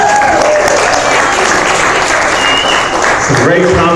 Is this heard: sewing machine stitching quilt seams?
no